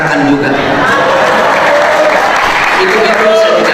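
Applause inside a mosque during an Eid al-Adha sermon in Cirebon, a loud, steady wash of clapping from the congregation that fills the whole stretch, with voices in the crowd underneath.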